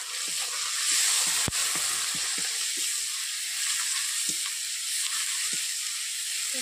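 Chilli powder and chopped tomato sizzle steadily in a hot pan for a Bengali potato curry, with a continuous hiss broken by occasional stirring scrapes and one sharp tap.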